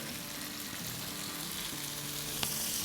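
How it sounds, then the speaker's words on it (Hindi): Mutton keema dal masala fries in hot oil as tomatoes go in, giving a steady, dense sizzle close by with a faint clink near the end and no talking. "तब इसमें हम डाल देंगे 3 दरमियाने साइज़ के टमाटोज।"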